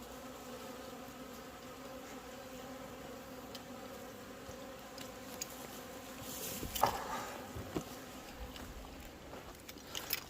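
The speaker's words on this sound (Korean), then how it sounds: "지금 제일 문제가 되는 게 작은 흑말벌입니다" Small black hornets buzzing steadily around a beehive, a continuous droning hum of many insects with a brief louder burst partway through, no voices.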